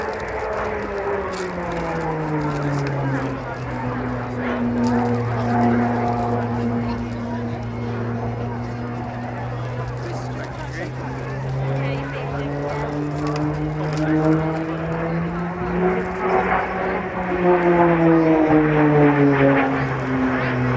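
A turboprop trainer aircraft, replacement for the Jet Provost, flying at the Halton Air Show, its steady droning engine tone sliding slowly down and then back up as it passes and turns.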